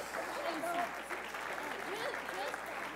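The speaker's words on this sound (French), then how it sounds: "laisse pas les enfants, on les applaudit." An audience at a French church gathering applauds the children, a sustained patter of clapping at moderate distance, with voices and calls mixed in.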